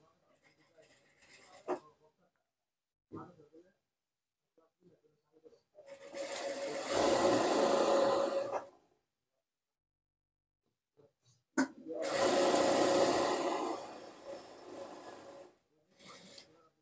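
A sewing machine stitches a folded two-inch pajama hem in two sustained runs of fast, rattling whirring, each lasting a couple of seconds, close up, separated by quiet pauses and brief handling noises.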